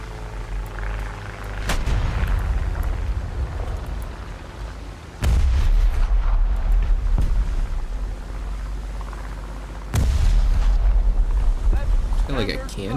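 Naval cannons fire in heavy booming bursts during a War Thunder naval battle, three big blasts amid wind and rumbling engine noise.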